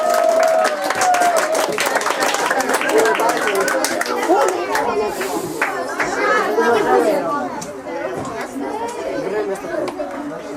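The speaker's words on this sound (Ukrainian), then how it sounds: "Ми вітаємо дружніми оплесками" Friendly applause for a 12-year-old girl taking third place at a children's summer camp sports award ceremony, scattered clapping mixed with lively crowd chatter and children's voices throughout.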